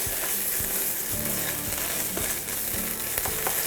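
Four tablespoons of tomato puree sizzle steadily and loudly in a hot pan while spicy chickpeas with roasted cauliflower are being made, with occasional stirring scrapes over the constant frying hiss.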